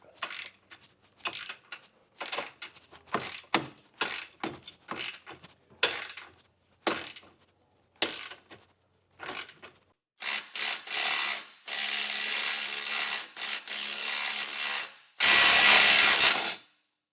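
A hand ratchet works a 16mm bolt loose from a side bracket on a 2025 Jeep Gladiator, sounding as short bursts of close, crisp clicking with brief pauses, then longer continuous runs of rapid ratcheting toward the end.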